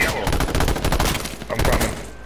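Sniper and other weapon fire in a video game crackles in loud, repeated shots throughout, with brief gaps between bursts and no clear talk.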